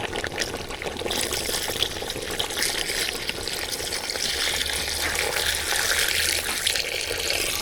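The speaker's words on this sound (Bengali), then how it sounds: "এবার ঝোলের পানি দিয়ে দেবো।" Gravy water poured into a pot of meat curry with potatoes makes a continuous, close splashing pour and trickle that runs steadily for several seconds without speech.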